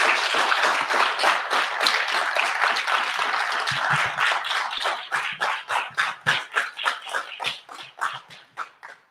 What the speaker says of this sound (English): please a big round of applause to this group